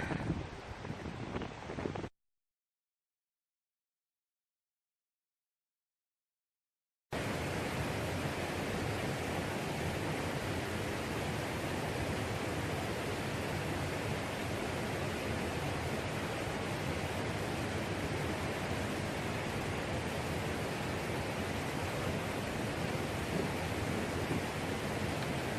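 After a brief silence, a steady, powerful rush of river water fills the air at a canoe portage, a constant broadband roar close by with no pauses.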